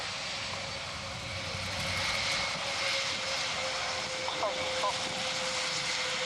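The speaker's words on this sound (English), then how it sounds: "So there, completing its sequence, the Airbus A400M." An Airbus A400M military transport aircraft flies by during an air display, a broad, steady turboprop roar with a droning tone in the distance, while an announcer talks over it.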